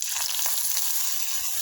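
Curry leaves and onion fry in hot oil for beetroot pachadi, a steady close sizzle with soft crackles running evenly throughout, no voices.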